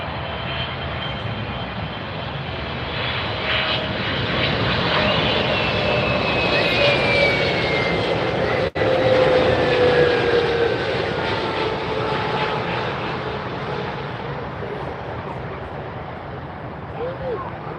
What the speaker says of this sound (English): Air France, Flight 90, a Boeing 777-300ER arriving from Paris, Charles de Gaulle.